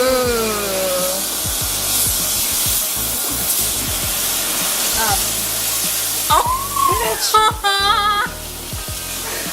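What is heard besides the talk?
burger patties sizzling in a grill pan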